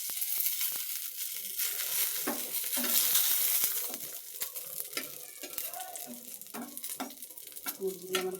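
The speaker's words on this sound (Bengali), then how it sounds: "মুরগিগুলো আমার ভাজা হয়ে গেছে, এখন তুলে নেবো।" Chicken fries and sizzles in a pan while being stirred, with a steady crackling hiss and repeated scraping and clinking of a utensil against the pan, close and fairly loud.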